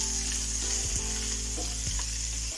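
Onions for prawn spinach thoran fry in hot oil in a pan with a continuous bright sizzle, close and steady, over a low background hum.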